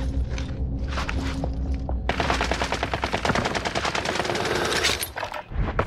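Gunfire in the video game Call of Duty: Modern Warfare, with scattered single shots giving way to a long rapid automatic burst, loud and close, plus some footsteps and thuds, no speech.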